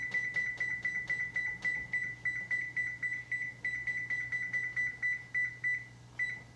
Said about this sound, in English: Set your timer to 30 minutes, which I'm doing right now.